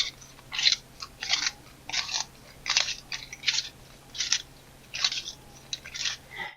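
Bostitch Twist n Sharp pencil sharpener ratcheting in a steady series of about ten crisp, close clicking bursts with brief gaps, continuing without a stop.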